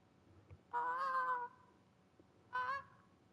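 Geese honk in the hunting game theHunter: Call of the Wild, two separate calls a moment apart, the first longer and the second brief, heard fairly faint and distant against quiet.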